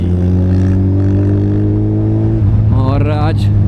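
Engine of a Suzuki Hayabusa motorcycle on a short ride toward the Hirakud Dam dyke, a steady loud hum that shifts pitch and revs up near the end, close to the microphone.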